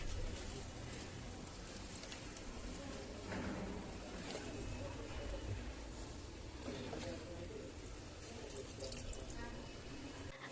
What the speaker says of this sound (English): I'll pour water to all of them.